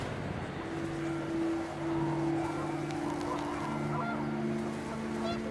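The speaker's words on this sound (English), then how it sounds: "The wind picked up, and panicked geese appeared and quickly went." Panicked geese honk steadily in a game scene from What Remains of Edith Finch, with wind noise underneath and the calls carrying through the whole stretch at moderate loudness.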